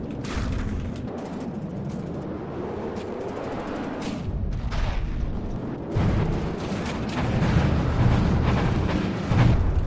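Internal explosions tearing through a wreck in the From the Depths video game, a dense continuous rumble of booms and crackling blasts that swells louder toward the end, with no speech.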